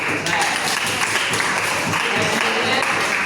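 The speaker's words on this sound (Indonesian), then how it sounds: "tepuk tangan untuk kelompok 5 sebagai juara" Classroom applause for a winning student group, a steady wash of many hands clapping at once without pause, close and fairly loud.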